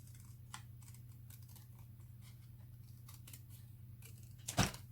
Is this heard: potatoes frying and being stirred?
no